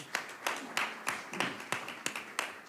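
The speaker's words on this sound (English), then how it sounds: "You can clap for them." A few people clap at a school board of education meeting, faint and sparse, with roughly a dozen distinct, evenly spaced claps in a quiet room.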